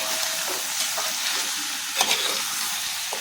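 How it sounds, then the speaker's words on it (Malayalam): Half a kilo of chicken sizzles in a pan with garlic paste, a close, steady frying hiss broken by a few soft stirring scrapes. "ഇതിലേക്ക് ഞാനൊരു അര കിലോ ചിക്കൻ ചേർക്കുന്നുണ്ട്"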